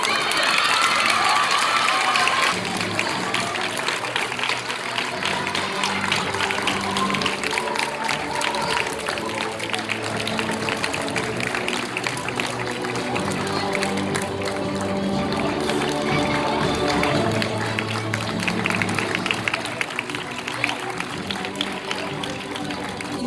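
Sustained applause from a large crowd at a college inter-house drama competition awards, steady and loud throughout with some cheering mixed in.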